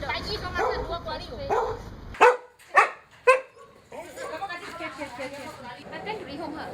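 Dogs at a stray dog shelter housing more than a hundred animals bark in three sharp, loud bursts near the microphone, set between stretches of people talking.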